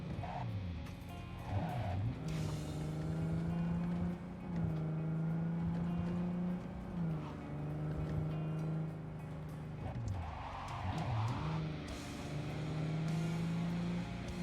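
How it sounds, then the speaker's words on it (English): City background in the video game Cyberpunk 2077: a continuous droning traffic hum with car engines rising and falling and passing, steady and moderately loud throughout. "background noise, which is basically just city noise at this point."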